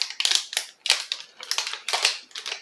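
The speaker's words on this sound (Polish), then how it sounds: "czyli kości do gry" Small hard objects clatter and rattle in repeated bursts, like game dice from a Pokémon trading card box being shaken and rolled in a hand, close up with no talking.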